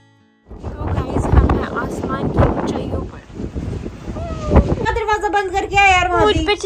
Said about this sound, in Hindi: देखते हैं हवा चल रही है यहाँ अच्छी होगी।